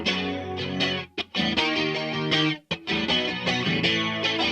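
Song passage with heavily distorted electric guitar strumming major chords over a bass line, loud and dense and alone, with two brief gaps where the chords cut out before crashing back in.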